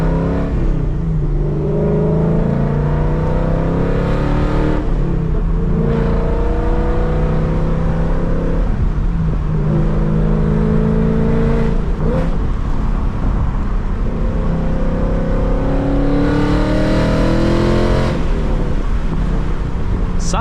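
A 2022 Ford Mustang Mach 1 V8 with long tube headers and an H-pipe revs repeatedly with a deep, throaty exhaust burble, loud and close, each rise in pitch dropping back to a rumbling idle.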